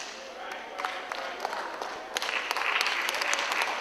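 Audience applause at a Caribbean conference speech, a continuous wash of clapping that swells toward the end, with a voice faintly present underneath.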